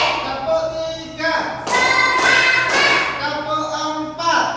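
Children in an Indonesian classroom clap a counted rhythmic chant, with bursts of claps in groups alternating with a teacher's voice, close and fairly loud throughout.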